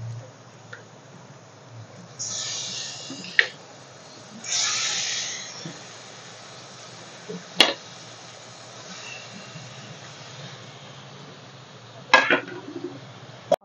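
Lote fish (Bombay duck), drained of water, stirred into oil-releasing masala in a cooking pot for fish curry: soft scraping and clinking of a spoon against the pot in a few short bursts, with sharp clicks and quiet gaps between.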